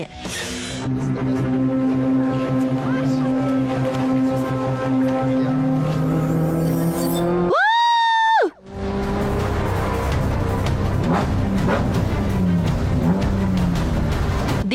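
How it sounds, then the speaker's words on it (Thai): A race car on a brake test run before a hill-climb race, its engine roaring loudly and steadily. The roar cuts out briefly and a sharp rising tire squeal comes in before the engine note returns. "เราต้องทดสอบรถเพื่อแน่ใจว่าใช้เบรกได้"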